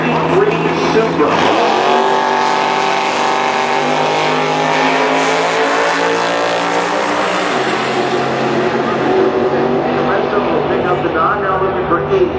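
Drag racing cars, an '85 Camaro and a '93 Supra, roar loudly and without a break down the strip as their engines rev, while an announcer talks over the noise.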